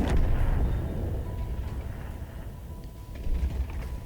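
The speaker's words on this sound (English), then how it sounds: "I take a blind shot thinking, okay, maybe I can weave it through the buildings" A tank cannon fires a blind shot through buildings in World of Tanks on the Westfield map, a heavy low rumbling boom that fades into a steady low battle rumble.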